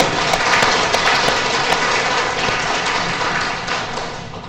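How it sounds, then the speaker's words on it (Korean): A crowd at a church prayer meeting in Incheon applauds steadily, a dense wash of clapping that starts strong and slowly fades over a few seconds, with no speech. "박수 한번 쳐드릴게요"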